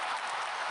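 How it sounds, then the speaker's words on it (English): A brief, steady wash of audience applause, evenly sustained with no distinct individual claps standing out. "Let's get some applause."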